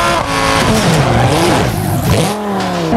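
A Lamborghini in BeamNG.drive drives fast with a loud, continuous engine roar whose pitch rises and falls as it revs.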